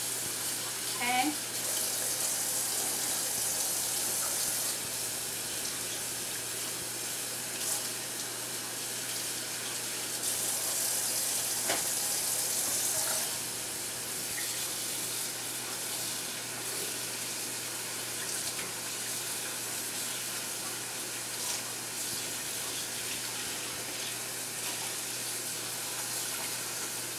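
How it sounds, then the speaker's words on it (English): Tap water runs steadily over cabbage being rinsed in a sink for kimchi, a continuous hissing gush that carries on for nearly half a minute with a few clunks and splashes and faint talk in the background. "cabbage has been rinsed thoroughly"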